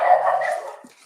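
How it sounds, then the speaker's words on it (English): Puppies give one short, high yelping bark, close and lasting about a second. "listen to those puppies go"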